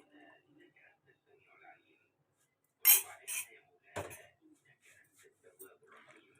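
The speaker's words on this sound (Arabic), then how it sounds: "هقوم حاطه دلوقتي معلقه ملح الليمون" A metal spoon clinks against a container while citric acid is added to homemade hibiscus shampoo, giving a few short bright knocks and scrapes in a quiet room, with faint soft voice in the background.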